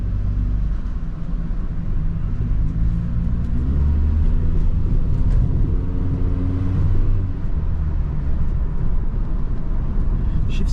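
A 1998 Honda SM-X drives along with a steady engine drone and road rumble, the pitch rising and dropping as it shifts gears, close and continuous throughout.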